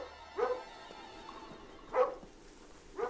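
A dog in the Lost video game barks three times in distinct, evenly spaced, moderately loud woofs over a faint background hum, with no talking.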